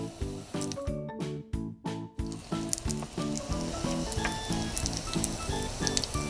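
Asafoetida tossed into hot ghee with cumin seeds, a loud continuous sizzle and crackle after a few brief scraping pauses, steady and close, with no talking.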